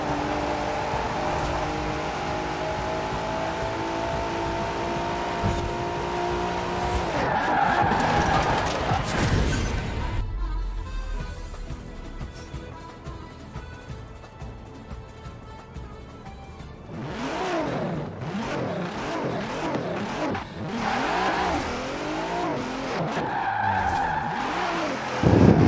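A favourite fast car in the Forza racing game revs, accelerates and skids, with repeated engine pitch sweeps, sustained tire squeal and a quieter stretch in the middle before engine roars return, loud and close.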